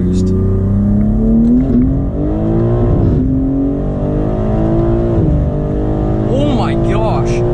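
A BMW G80 M3 with an MHD Stage 1 tune launches hard from a brake boost, its engine and exhaust droning loud and close from inside the cabin, rising in pitch through gear changes while people exclaim over it.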